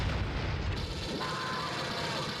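Predator wrist blade secondary fire in the video game AVP Classic 2000, heard as a short heavy boom-like burst fading into a hissing tail, alone without talk.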